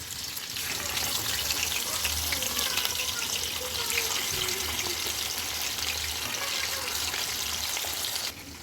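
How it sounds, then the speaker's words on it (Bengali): Pieces of rohu fish frying in hot oil, a steady dense sizzle that holds evenly for several seconds up close, then drops off sharply near the end. "তেল গরম হয়ে গেছে আমি রুই মাছ দিয়ে দিলাম"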